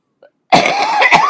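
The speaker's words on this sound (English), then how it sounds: "I felt that cough come on the minute I saw this thing go live." A woman with a slight cold coughs close to the microphone, giving one faint catch and then a loud, harsh, double-pulsed cough.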